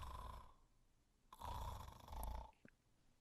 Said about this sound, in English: let's hear some snoring here.